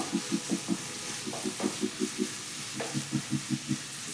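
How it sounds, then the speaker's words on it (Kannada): Onions fry in oil over a medium flame, a soft sizzle under a rhythmic series of close spatula taps and scrapes against the pan, with no speech. "ಎಣ್ಣೆನಲ್ಲಿ ನೀಟಾಗಿ ಮೀಡಿಯಮ್ ಫ್ಲೇಮಲ್ಲಿ ಚೆನ್ನಾಗಿ ಫ್ರೈ ಮಾಡ್ಕೋಬೇಕು"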